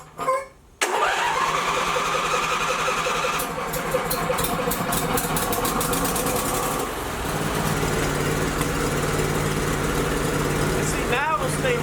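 A car engine, fed fuel poured straight into its carburetor, cranks briefly, then catches and settles into a loud, steady run close by, with the revving shifting partway through.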